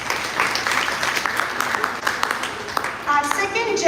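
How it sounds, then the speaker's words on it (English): An audience at a school event applauds to welcome a guest, a steady spread of clapping running throughout while a voice talks over it toward the end. "Let us welcome sir with a big round of applause"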